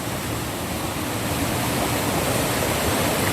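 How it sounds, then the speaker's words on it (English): Rushing water of a river in Oxford, Manchester, Jamaica fills the air with a dense, constant roar, loud and close, steady throughout with no voices. "right now you're hearing a lot of noise of the water"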